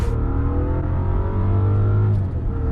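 A Rolls-Royce Dawn worth $400,000 accelerating hard at full throttle in low mode, its engine a loud, smooth, rising drone heard from inside the cabin, pitch climbing steadily before easing slightly near the end.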